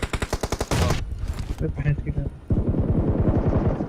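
Gunfire in a battle royale mobile shooter, apartment area: a rapid burst of automatic shots, then a pause with someone talking, then another long automatic burst, loud and close.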